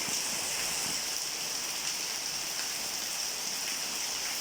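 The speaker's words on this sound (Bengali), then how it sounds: "এই সময় বৃষ্টি আসছে বৃষ্টি তো বৃষ্টি সেরকম বৃষ্টি যেমন বাতাস তেমন বৃষ্টি" Steady morning rain with wind, a dense, even hiss of falling rain holding at a constant level without pause, close and fairly loud, with no voices.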